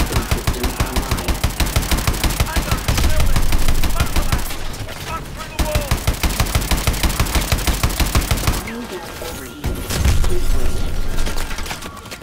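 A mech's main gun in Call of Duty Advanced Warfare pounds out fast, evenly spaced heavy rounds close up and loud, with brief pauses between long bursts and mechanical whirring in the gaps.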